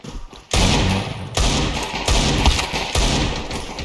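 Counter-Strike gunfire: loud, close bursts of rapid shots and heavy thumps start abruptly after a brief quiet moment and continue in dense, uneven volleys, with no talking over them.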